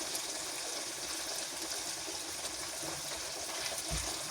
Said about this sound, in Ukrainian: Можна трішки додати води.